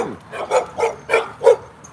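Four short barks from young dogs in steady succession, fairly close, with a brief whine at the start and no talking.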